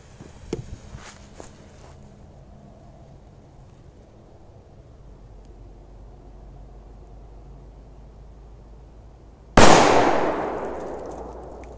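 A Krasar 4 smoke firecracker explodes outdoors in one loud, sharp blast after long near-silence, with a few small taps early on and a decaying rumble after the bang.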